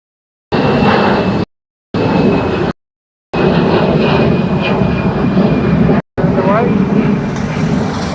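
An airliner takes off at windy Dublin Airport, a loud, steady engine roar lasting several seconds, broken by short gaps, with strong wind buffeting underneath.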